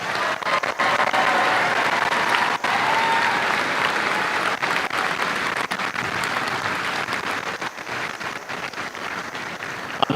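A large audience at a high school graduation ceremony bursts into loud sustained applause, dense continuous clapping filling the hall, with a faint voice briefly underneath.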